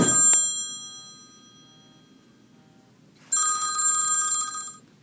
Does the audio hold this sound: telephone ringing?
yes